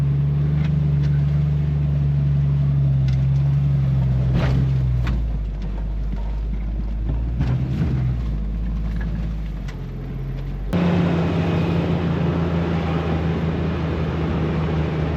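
A Jeep on fat tires breaks trail through shallow snow, its engine a steady low drone close by with crunching and rumbling from the tires, the engine tone dipping midway then returning louder.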